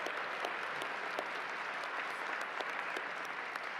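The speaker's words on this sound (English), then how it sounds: "They deserve a round of applause." A crowd applauding an award presentation honouring Israel's defenders, a continuous even wash of many hands clapping at moderate distance, steady and unbroken throughout.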